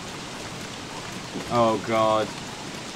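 Steady rain falls in the video game Don't Starve, a constant soft broadband hiss throughout, with a man briefly exclaiming over it partway through.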